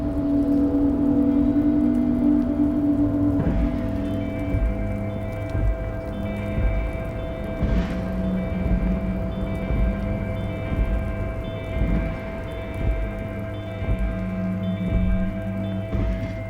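Steady rain patters down in the Drunk Detective 2 video game, a soft continuous hiss running beneath tonal background music, with no voices.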